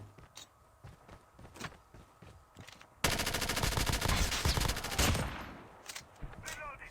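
Gunfire in Call of Duty Mobile while shooting bots: scattered shots and footsteps at first, then a sudden loud sustained automatic burst lasting about two seconds, followed by quieter sporadic shots.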